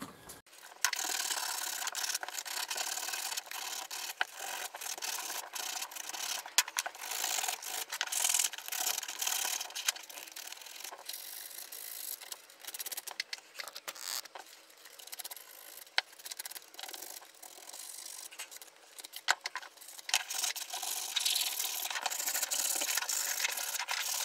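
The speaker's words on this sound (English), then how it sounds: "just going to give it a light sanding on the edges just to round them off" Steady dry rasping of sandpaper rubbed back and forth over wood, continuous and close, with brief pauses between strokes.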